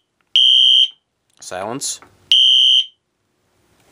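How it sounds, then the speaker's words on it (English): Fire alarm panel sounding during a system test on a newly installed panel: two loud, steady electronic beeps about two seconds apart, each lasting roughly half a second, with a brief burst of speech between them. "The panel like chirps and everything. It beeps"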